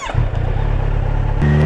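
A Kawasaki Z900 motorcycle engine on a steep uphill climb lets out a close, low, lumpy rumble that shifts in tone as it struggles toward a stall.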